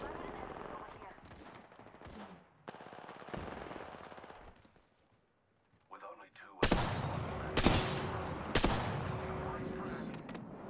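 Bursts of automatic gunfire in the battle royale game Apex Legends, loud sharp volleys crashing in after a quieter stretch of game sounds and voices, repeated several times in close succession.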